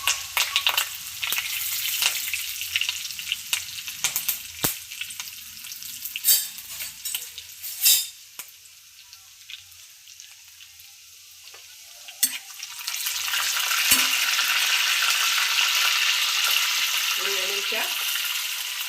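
Curry leaves spit and crackle in hot oil in a pan for spinach chicken, a steady bright sizzle with scattered sharp pops and stirring clatter, swelling louder toward the end.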